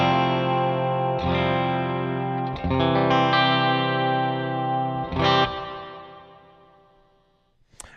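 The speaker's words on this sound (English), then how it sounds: "And here is the Cloud9 Reverb." A clean electric guitar, played through a Cloud 9 reverb pedal into a speaker cabinet mic'd with a Sennheiser E906, rings out in several strummed chords whose reverberant tail slowly fades to near silence, then a short click at the end.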